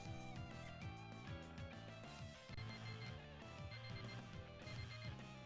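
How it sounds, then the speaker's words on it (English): A morning alarm clock rings inside the Pokémon Sinking Sapphire game, a repeating electronic tone blended into dense, continuous game music with no voices. "Oh damn, it's my morning alarm."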